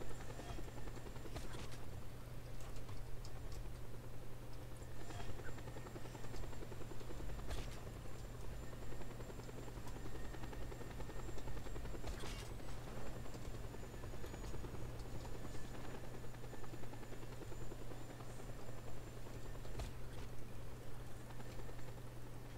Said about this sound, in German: Ich bin mit dem Heli direkt hinter dir.